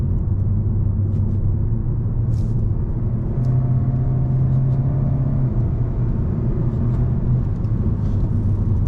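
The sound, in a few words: 2024 Kia K5 GT Line accelerating with quick 8-speed gear shifts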